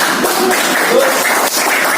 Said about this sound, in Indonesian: Iya, kita tepuk tangan semuanya.